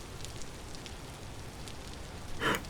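Rainfall in the video game Vintage Story, a continuous soft hiss of drops with a brief louder splash near the end, no voices.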